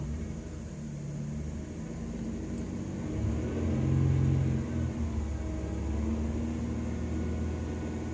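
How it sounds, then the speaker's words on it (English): A car engine idles and then revs up to about 2500 RPM, its rumble rising and holding steady near the microphone during a battery test, with no talking. "I'm gonna rev the engine now to 2500 RPM."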